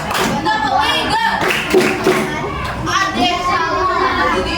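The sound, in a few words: children clapping hands in rhythm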